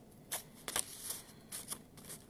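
Scissors snip part way into paper while making a pinwheel, a few short, quiet crisp cuts in a rough rhythm with pauses between them.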